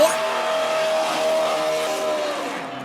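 A NASCAR stock car doing a burnout in a stop-motion race, with a loud, sustained tire squeal over a revving engine that fades slightly toward the end; a voice talks over it.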